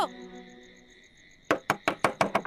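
Knocking on a house door in a Hindi TV drama scene: after a quiet tonal stretch, six sharp knocks come in a quick, slightly uneven series, loud and close.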